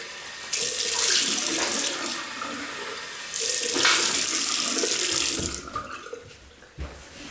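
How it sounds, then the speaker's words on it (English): Warm water runs from a tap into a sink for rinsing after a shave, a loud steady hiss and splash that gushes, briefly eases, then flows strongly again before cutting off. "Warm water."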